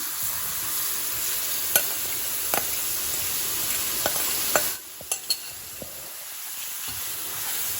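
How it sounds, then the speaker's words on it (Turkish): Syrup hits hot flour halva in a pan and sets off a loud hissing sizzle, punctuated by spoon scrapes and taps, before the hiss drops quieter toward the end. "Şerbetimi artık helvaya ekliyorum."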